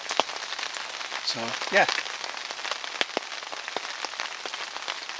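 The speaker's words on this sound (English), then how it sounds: "Yes, it's raining." Steady rain patters on a lake tarn during a carp fishing session in the Lake District, a constant fine hiss with scattered close drops, while someone speaks briefly partway through.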